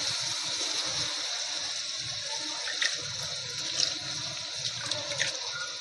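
Running water rinses a pot that held onion while it is washed in a kitchen, a continuous close splashing stream with occasional brief clinks and knocks against the metal.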